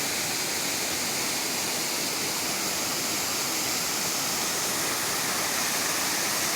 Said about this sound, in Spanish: Y más del arroyo Bandujo.